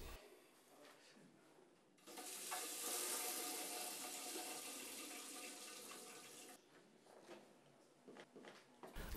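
Water rushes out of a shut-off pipeline as pressure is released before swapping an Allmess water meter's measuring capsule, a loud steady hiss of about four and a half seconds between quieter handling noises.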